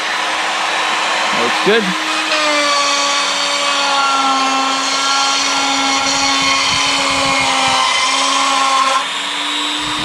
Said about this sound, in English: power up the spindle, and make a cut.